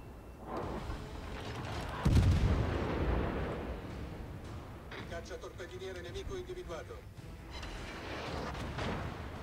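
Naval guns in World of Warships firing high-explosive shells: a loud boom near two seconds, then sustained rumbling battle noise and crackling impacts under someone talking.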